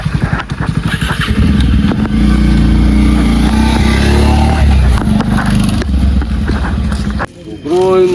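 A motorcycle engine roars loud and close as the bike rides off at night, then cuts lower near the end; people talk over the engine noise.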